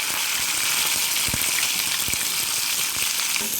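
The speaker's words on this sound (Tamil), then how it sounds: "சேர்த்து நல்லா வதக்கி கொள்ள வேண்டும்" Onions, green chilies and curry leaves sauté in a pan with a loud, continuous sizzle, marked by a couple of soft knocks from stirring.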